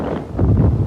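Strong wind gusting over the sea during a squall while out fishing with nets from a small boat, a loud, rough roar buffeting the microphone in two surges within under a second, with no voices.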